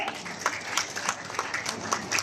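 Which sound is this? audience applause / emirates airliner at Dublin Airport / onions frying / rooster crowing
audience applause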